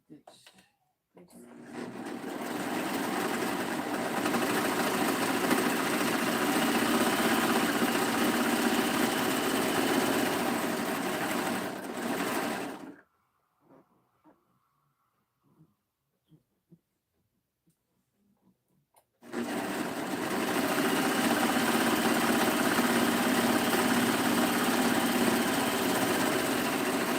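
A sewing machine stitches a knit set-in sleeve in two long, steady runs of rapid whirring, close and loud, with a quiet pause between the runs.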